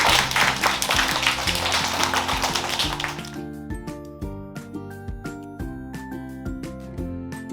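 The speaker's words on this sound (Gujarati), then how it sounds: "તો તાળીઓ પાડો." Preschool children clap their hands together in a Gujarati class, a dense burst of applause lasting a few seconds before giving way to crisp, rhythmic tapping music.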